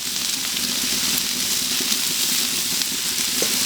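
Shredded brisket and vegetables sizzle steadily on a hot griddle as a breakfast hash cooks, a dense, even hiss of frying that stays close and constant with no talking.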